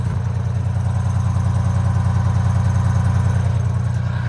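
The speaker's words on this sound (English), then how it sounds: "The reason why this bus sounds so damn good, look." A bus engine idles at close range, its exhaust giving off a deep, steady, pulsing rumble through the muffler that holds even throughout with no talking.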